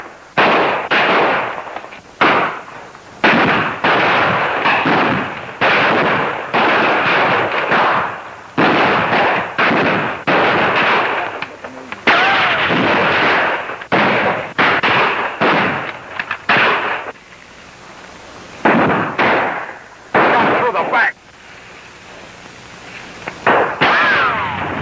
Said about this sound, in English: We have to make every shot count.